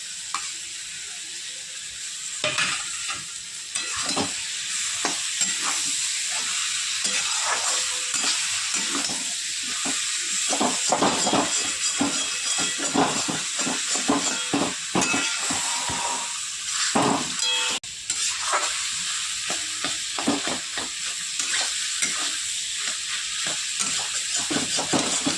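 Shrimp frying in a pan with pumpkin, a constant loud sizzle carrying on throughout while a utensil stirs and scrapes repeatedly, close up with no voices.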